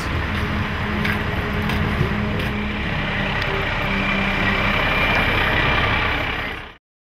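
A fire truck engine idles nearby with a steady low rumble and faint mechanical rattle, loud and constant before cutting off abruptly.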